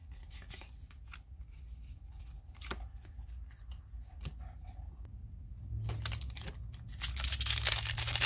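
Magic: The Gathering cards from Core Set 2021 booster packs being handled and shuffled close up, a quick series of crisp flicks, slides and crinkling wrapper sounds, growing busier toward the end.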